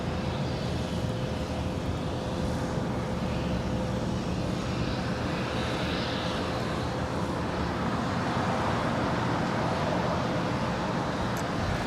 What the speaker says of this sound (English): that is flight 601 coming in from Amsterdam with KLM on a 787-10 Dreamliner